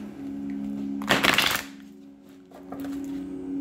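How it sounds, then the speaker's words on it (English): Tarot cards are shuffled close by, with one loud riffling burst of about half a second and a fainter second flutter later over a steady low hum, with no talking. "let me just do two more shuffles for Aquarius"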